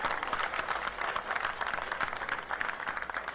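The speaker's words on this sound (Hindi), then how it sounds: "एक बार पूरा सदन जोरदार तालियां बजाए" Members of the Delhi legislative assembly applaud loudly in the chamber. The clapping is a continuous, even roar of many hands throughout, with only a faint trace of voices.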